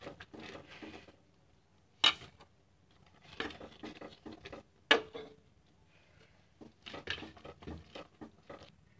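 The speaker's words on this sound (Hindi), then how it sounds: "अब इसमें हम थोड़ा थोड़ा मैदा डालेंगे और इसे हम बराबर चलाते जाएंगे," Maida flour is stirred little by little into sugar syrup in a pan for burfi, heard as quiet, irregular spoon scrapes and taps against the metal in short clusters separated by pauses.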